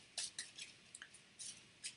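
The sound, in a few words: shuffling board game cards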